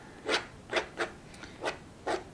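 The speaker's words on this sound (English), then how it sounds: "now I'm just using the corner and just scraping in some little" The corner of a brush scrapes across watercolor paper to add small leaves and stems to a white crocus painting. Six short, soft rasping strokes come at a loose, uneven pace, close and quiet, with no voices.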